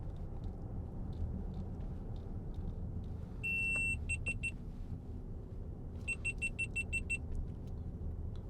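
Short electronic warning beeps from an overheating camera inside a 2015 Range Rover 4.4 SDV8 Autobiography, sounding in two rapid bursts of repeated high tones over a steady cabin and road hum.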